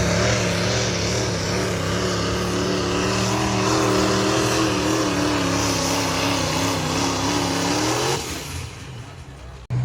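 Big diesel truck pulling a sled down a pulling track at a diesel extravaganza, engine roaring loud and steady with a heavy rising drone for about eight seconds before cutting off abruptly.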